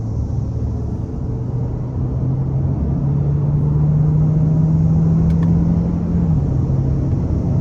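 A 2024 Hyundai Tucson Hybrid with a 1.6-litre turbo four and electric motor assist is pushed hard. A steady interior engine drone climbs in pitch over several seconds, then drops back, above constant road rumble.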